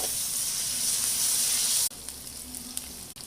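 Ginger garlic paste frying with onions in a pan gives a loud continuous sizzle that drops suddenly partway through, then carries on more softly with a few light stirring clicks.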